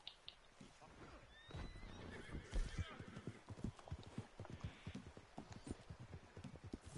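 A horse in Red Dead Redemption 2 whinnies, then its hooves clip-clop in an uneven trotting rhythm, close by, with quiet game sounds in the background.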